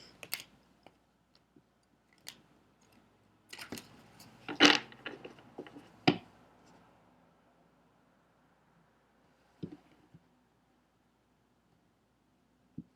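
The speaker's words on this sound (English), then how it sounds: "It's kind of hard to shuffle though." Tarot cards are shuffled gently by hand, giving soft papery riffles and clicks that cluster in a busy burst midway, with scattered faint taps before and after and long quiet gaps.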